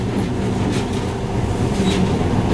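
A monorail train running through tunnels in the video game Metro Last Light: a continuous loud rumble with rhythmic rail clatter and faint squeals, steady and close.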